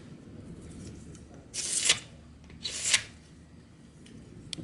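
A ruler drags excess plaster across a tile mould in two distinct gritty scrapes, each about a third of a second long and close by, with quiet room noise between them.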